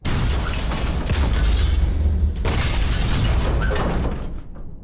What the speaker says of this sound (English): Suddenly, the explosions cease.